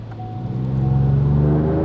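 A Ford Ranger Raptor V6 twin turbo on a dyno builds into a loud, steady low engine drone that swells over about two seconds and holds, close and alone.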